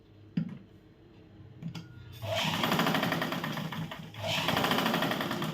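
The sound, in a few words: sewing machine stitching a blouse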